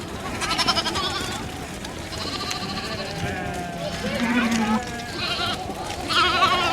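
Sheep and lambs bleat repeatedly around a farm pen during flock sorting, several overlapping calls rising and falling at close range, with a person talking underneath.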